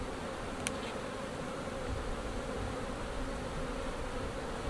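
Honey bees swarming around an open hive during a colony split, producing a dense, continuous buzzing drone that stays steady and close throughout with no voices.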